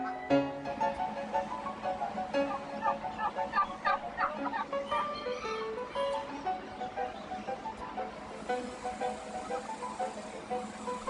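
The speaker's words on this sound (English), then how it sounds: "Somehow we never think of the turkey this way, but it really is a magnificent, majestic kind of creature." Birds at a wildlife rehabilitation center, among them turkeys, call and gobble in busy, overlapping rapid clucks and warbles that continue throughout at moderate distance.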